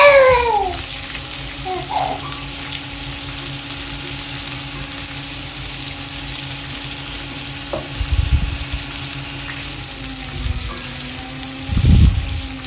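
Chopped onions and dried red chillies sauté in a pan with a steady low frying hiss, a few soft clinks and scrapes of stirring, and heavier bumps near the end.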